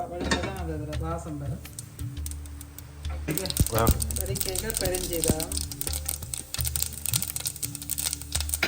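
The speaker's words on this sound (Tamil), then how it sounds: "கொஞ்சமாக கடுகு போடுவோம் இது வடிக்க மட்டும் அப்படியே விடணும் கொஞ்சம் பொரியுது" Mustard seeds splutter in hot oil for a mutton curry, a burst of sharp, rapid crackles and pops that begins partway through and continues steadily, with a voice talking over the start and throughout.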